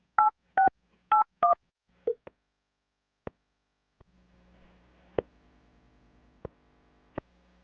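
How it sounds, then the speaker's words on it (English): Four quick touch-tone beeps, then a few more scattered tones and clicks as a number is keyed in, followed by a faint low hum. "I'm gonna dial the phone number right now"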